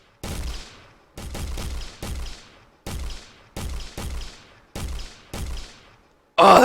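Shotguns firing in the Quake video game: seven sharp blasts at a slow, uneven pace, each with a short decaying tail, followed by a louder burst of a different game sound at the end.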